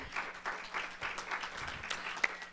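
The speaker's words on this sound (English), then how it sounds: "you can applaud for her." A church congregation at a mid-week service claps in a loose, fairly faint patter, with rhythmic bursts roughly every half second and one sharper clap near the end.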